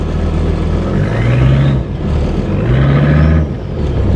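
An old car's engine idles and revs up in two rising surges, with a loud, close, rough chugging note like a tractor; no talking.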